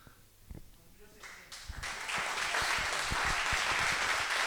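An audience at an anniversary gathering applauds for a birthday, with clapping that builds from scattered claps into steady crowd applause after a short stretch of talk.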